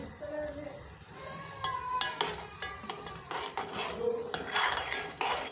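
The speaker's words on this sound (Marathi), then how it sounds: "आपल्या साखरेचा पाक तयार होत आहे किती मस्त उकळी येत आहे" Sugar syrup for sugar garlands bubbles as it boils in a pan, a faint hissing simmer broken by scattered clinks and scrapes of a utensil against the pan.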